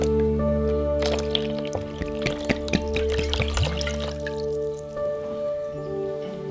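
Water trickles and drips into a kinetic sand toy tray, with small splashy bursts and wet squishing over a steady background hum, fairly close and quiet, no talking.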